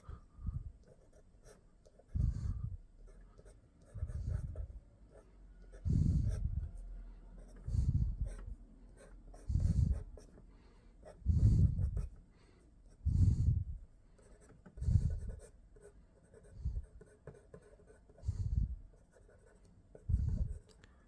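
A pencil draws dark lines on paper in a steady series of about a dozen scratchy strokes, each lasting around a second with short gaps between, close up and clear with no talking.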